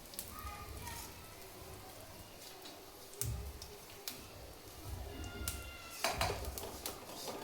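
Grated coconut roasting and being stirred together with peanuts and sesame in a pan over low heat for a peanut chutney: scattered scraping clinks of a spoon against metal over a soft continuous crackle, close by.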